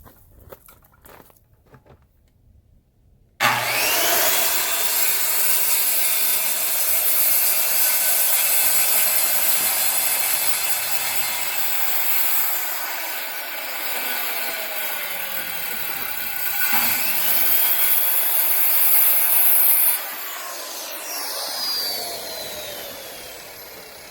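A power saw cuts through a clamped 2x4 wooden board, starting abruptly and whining steadily for about sixteen seconds at close range before stopping.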